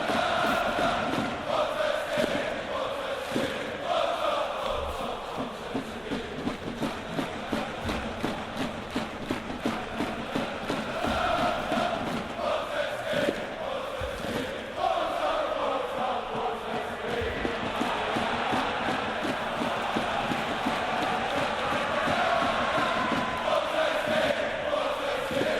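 A large crowd at a match chants and cheers continuously, a rhythmic, swelling roar of many voices that rises and falls steadily throughout.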